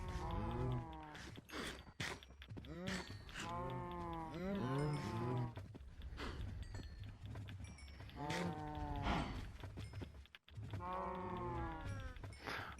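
Cows on a video game farm moo repeatedly, several overlapping long lowing calls in bursts with short gaps, fairly close and clear.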